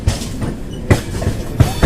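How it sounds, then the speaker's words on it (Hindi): Rumble of the Purva Express, Howrah to New Delhi, at an Indian railway platform, with low rolling noise and periodic heavy knocks repeating every half-second or so. "और गाइस ये देखिए सामने खड़ी है पूर्वा एक्सप्रेस हावड़ा न्यू दिल्ली"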